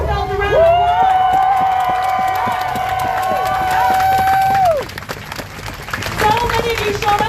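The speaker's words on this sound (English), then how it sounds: "Give yourselves a round of applause." A large rally crowd gathered downtown in Florence, Alabama claps and cheers loudly and steadily for several seconds, with whoops and shouts riding over the applause before it thins out near the end.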